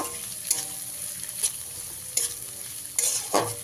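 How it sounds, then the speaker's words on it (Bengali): Two medium onions, finely chopped, fry in a pan on medium flame for an egg tadka, giving a quiet sizzle punctuated by four or five sharp scrapes of a spatula being stirred. "পেঁয়াজটাকেও খুব ভালো করে ভেজে নিতে হবে"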